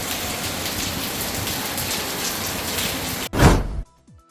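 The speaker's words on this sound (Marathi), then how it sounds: "श्रावण महिन्याच्या पहिल्याच दिवशी सोलापूर शहरात सायंकाळी 4च्या सुमारास बरसल्या श्रावण सरी" Monsoon rain pours steadily over Solapur city, a dense close hiss of drops on surfaces that stops abruptly after a short loud burst of noise.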